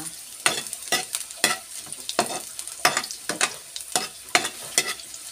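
Ginger sizzles and crackles in a hot frying pan as it crisps, with sharp bursts of spattering and stirring scrapes recurring every half second or so, close up and without voices.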